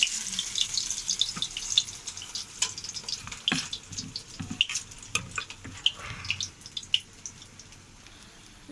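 Water lily flower fritters frying in hot oil, giving a close, steady crackling sizzle scattered with sharp pops and spits, with no voices over it.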